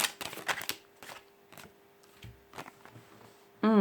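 Tarot cards laid down one over another, a series of soft slaps and dry paper clicks at an uneven pace, close and fairly quiet, ending in a louder brush.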